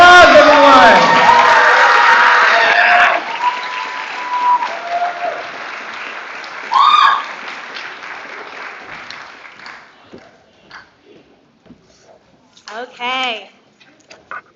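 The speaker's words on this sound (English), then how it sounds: "let's give our senior class one more big round of applause, everyone." A commencement crowd claps and cheers loudly for the senior class. The burst of applause and whoops dies away after about three seconds, leaving scattered claps, brief shouts and murmuring, with a short cheer rising again near the end.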